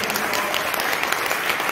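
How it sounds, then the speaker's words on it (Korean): Audience applause fills a multipurpose hall during a community education session, a steady dense patter of clapping throughout with some faint voices mixed in. "큰 박수 한번 부탁드립니다"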